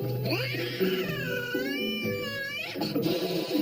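A wary, defensive cat yowling and growling at an approaching camera from its hiding place, a long wavering drawn-out caterwaul, close and loud with no talking.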